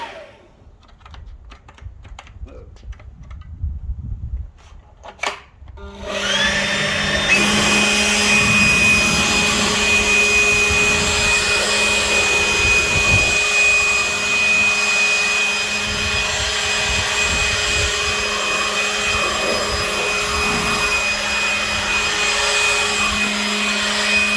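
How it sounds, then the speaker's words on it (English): After a few seconds of clicks and handling, a 40 volt Ryobi battery leaf blower starts up with a rising whine and then runs loud and steady with a high tonal whir. "But this is my leaf blower, 40 volt Ryobi leaf blower."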